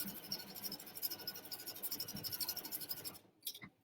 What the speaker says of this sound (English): Finishes the stitch, ties off, makes a knot, cuts, lifts the foot.